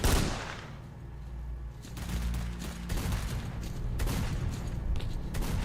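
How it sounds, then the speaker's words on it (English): Gunfire in the video game Shadows of Chernobyl: a sharp blast opens, and a second hit follows about two seconds later, amid a dense, rumbling backdrop of continuous firing. "I just fire 2 shots this direction"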